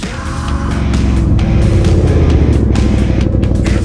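A dirt bike revs hard while popping a wheelie during a cross-country race at Smyrnadilla, its engine loud and close with a rising, sustained buzzy roar and rapid exhaust pulses, with no speech.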